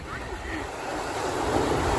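Steady wash of surf rolling in on a Costa Rican beach, a continuous broadband roar of breaking waves with some wind noise across the microphone.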